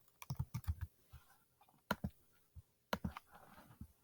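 Quick bursts of computer keyboard typing and mouse clicks while building a pie chart in Google Sheets, close and fairly quiet, with short pauses between clusters of keystrokes.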